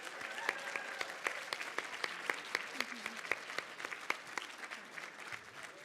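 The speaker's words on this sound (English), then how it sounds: "let's give one final round of applause for everything that you guys have done this year." Guests at an annual leadership recognition banquet applaud with a steady round of crisp claps from a moderately sized crowd in a room, lasting several seconds before starting to thin out.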